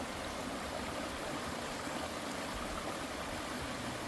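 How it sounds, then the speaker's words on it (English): A small babbling brook at the headwaters of the San Lorenzo River gives a soft, continuous watery rush, faint and steady with no voices. "Just a little babbling brook right here."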